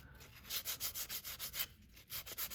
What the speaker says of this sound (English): You just want to sand your surface smooth.